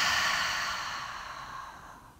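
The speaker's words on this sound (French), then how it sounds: "Et expirer par la bouche et relâcher les muscles." One long, breathy exhalation through the mouth during a guided relaxation exercise, close and soft, fading gradually over about two seconds.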